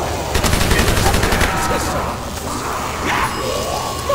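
Rapid automatic gunfire in a Call of Duty World at War custom zombies match, a dense, loud burst of shots that thins out into scattered game noise with a voice talking over it.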